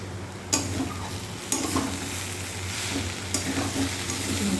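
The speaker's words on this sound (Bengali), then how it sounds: "চিনিটা দিয়ে একটু নাড়াচাড়া করে নেব।" Boiled chickpeas with sugar stirred in a pan over a steady sizzle, a spoon scraping in several distinct strokes against the pan amid a low background hum.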